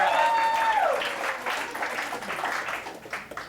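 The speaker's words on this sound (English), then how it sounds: "Let's give Carla a big round of applause." Audience at a stand-up comedy show breaking into warm applause, loud clapping that swells and then thins out over a few seconds, with a brief voice audible at the start.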